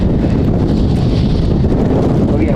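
Strong wind buffets the microphone outdoors at Edinburgh Airport on a cold, wet day, a loud steady roar and rumble that fills the whole stretch.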